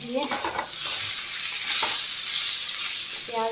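Snake gourd and onion frying in a pan, a loud steady sizzle broken by spatula scrapes and stirring knocks early on and again near the end, with no speech.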